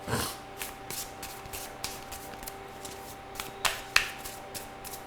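Cards are shuffled in quick repeated riffles, crisp papery flutters and snaps at close range in a quiet room.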